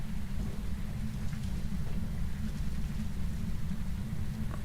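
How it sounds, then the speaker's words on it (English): A rainstorm with a deep rumbling thunder in the horror video game Phasmophobia, a steady low roar with rain hiss running unbroken throughout, fairly loud, with no talking. "Okay, I guess that was the thunder."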